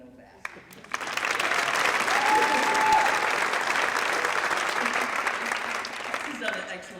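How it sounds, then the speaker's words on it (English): Audience applause at a high school scholarship awards night swells in after a brief voice, holds as a steady, full round of clapping for several seconds, then tapers off. "Why don't we all give a round of applause to Mr."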